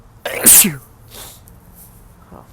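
A single sharp, close sneeze bursts out, followed by a faint breath and a soft murmur afterward.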